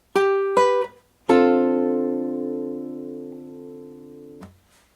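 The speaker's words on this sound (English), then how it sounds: "And this time you will hit the chord as well as the open D bass note" Acoustic guitar played in a song lesson: two short plucked notes, then a full chord struck over an open D bass note that rings out and slowly decays before being muted, no talking.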